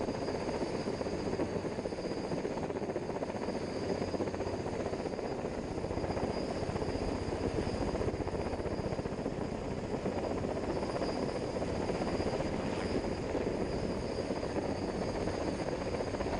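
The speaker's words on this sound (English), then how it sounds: "the helicopter lifts off, towing the massive load with a long line suspended beneath the fuselage" A heavy-lift helicopter lifts off with a massive load on a long line slung beneath the fuselage, a steady loud rotor drone and turbine whine holding constant throughout, near and unbroken.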